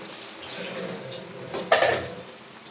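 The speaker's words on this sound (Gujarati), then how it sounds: "એ રીતના આપણી આંબલીની ચટણી ઉકળે છે" A pot of tamarind and date chutney bubbles on the stove with a soft, steady, watery burble, and one louder gurgling burst rises partway through before settling back down.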